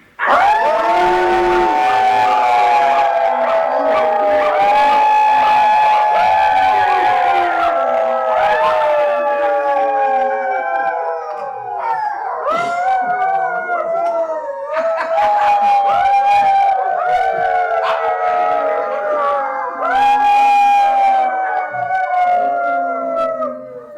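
A crowd of people at a furry convention animal-noise improv howls and barks like dogs together, long wavering overlapping howls rising and falling in pitch, loud and sustained with brief breaks, voices imitating canines.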